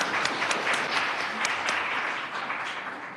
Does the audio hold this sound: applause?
yes